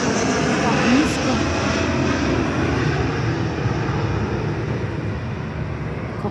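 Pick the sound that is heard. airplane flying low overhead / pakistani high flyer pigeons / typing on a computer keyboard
airplane flying low overhead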